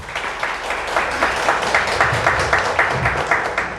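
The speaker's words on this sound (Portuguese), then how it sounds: "Uma salva de palmas." An audience at a city council chamber event gives a round of steady clapping, a dense patter of many hands sustained for several seconds at moderate distance.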